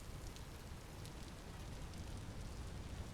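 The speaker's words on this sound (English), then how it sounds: "This sounds like some crazy rain." Heavy rain in the video game Vintage Story, a dense, steady hiss of downpour with scattered drop splashes, constant and close with no talk.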